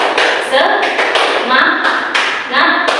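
A group claps in a quick, patterned rhythm, with voices chanting "tepuk semangat" along between and over the claps, in a classroom.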